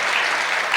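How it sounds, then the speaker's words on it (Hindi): Audience at a Hindi poetry recital clapping together, a dense, loud, steady burst of applause filling the moment with no voices on top. "ताली बजाओ तो फिर सारे मिलके बजाओ।"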